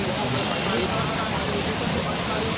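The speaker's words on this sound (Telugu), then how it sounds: "ఈరోజు బాన్స్వాడలో అతి భారీ వర్షం కురవడం జరిగింది" Heavy downpour over Banswada in Kamareddy district, a steady dense hiss of rain pouring down and drumming on surfaces, continuous and fairly loud with no letup.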